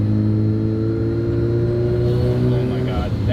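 A Mazda RX-7 FC rotary engine, running again after sitting for 15 years, revs up with steady droning harmonics that rise toward the end, close and loud.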